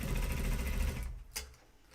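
A sewing machine runs through a thick jeans waistband for about a second, then cuts out, followed by a short sharp click and quiet handling.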